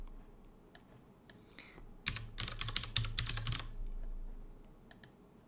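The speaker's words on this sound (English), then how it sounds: "you can type it right here as well" Typing on a computer keyboard, heard close and fairly quiet: a few scattered key taps, then a quick burst of rapid keystrokes in the middle, followed by a couple of isolated clicks, with no talking.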